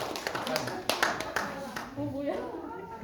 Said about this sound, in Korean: 박수 쳐야 됩니다.